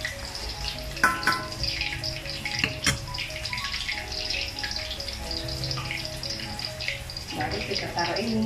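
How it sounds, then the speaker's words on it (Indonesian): Chicken fat and ginger fry in hot oil to make chicken oil, giving a steady soft sizzle and crackle with occasional sharper pops, fairly quiet throughout. "Kita goreng ya teman-teman, biar dia harumnya keluar, aromanya harum keluar."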